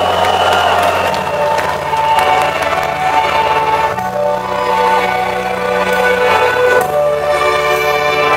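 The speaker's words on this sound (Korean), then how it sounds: "큰 박수로 맞아주시죠." A crowd at a Korean celebration concert claps and cheers to welcome Arirang singers and an Incheon opera chorus onstage, a steady, full wash of applause with some whoops running throughout.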